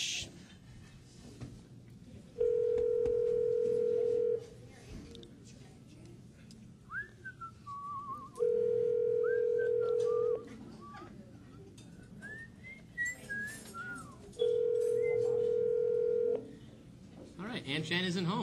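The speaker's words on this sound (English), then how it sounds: "We're going to call Aunt Jen right now from here" Phone call placed live from a restaurant, with three long steady ringback tones spaced evenly apart under a busy room, whistling and faint chatter in between.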